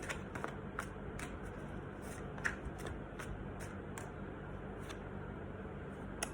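Tarot cards handled and drawn from a deck, a series of soft, quick papery flicks and slides repeating every half second or so, close and quiet against a faint background hiss.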